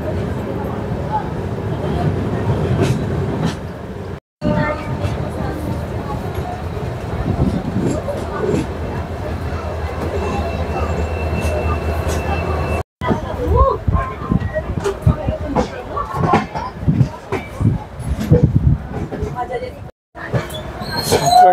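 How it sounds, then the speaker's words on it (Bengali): Shalimar–Puri Dhauli Express train pulling out of Santragachi station, which is under construction: a continuous rumble and clatter of wheels on rails with rattling carriages and occasional squeals, heard from on board under passing voices. "ট্রেন সাঁতরাগাছি স্টেশন ছেড়ে দিল"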